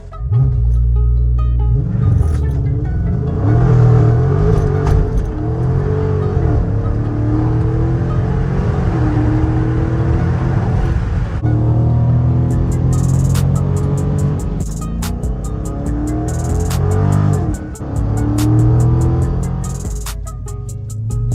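A Dodge Charger Scat Pack Last Call drives with a loud, steady engine note and rising and falling revs, filling the whole stretch alone with no talk.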